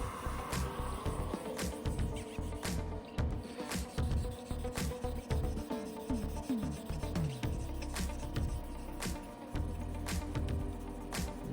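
Continuous rubbing and rasping of a sanding pad against a spinning resin workpiece with embedded plants on a lathe, with repeated sharp squeaks and scrapes at uneven intervals as the plants hit the pad.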